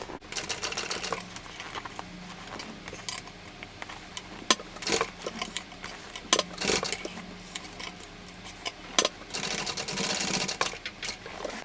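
A sewing machine stitches a Verona tote bag from Lizjay Craft Bag Patterns in rapid mechanical bursts, running in short runs separated by pauses and clicks, close and clear with no talking.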